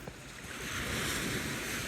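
Ocean waves break and wash steadily on a wide open beach, a loud, continuous roar of surf with some wind noise across the microphone and no voices.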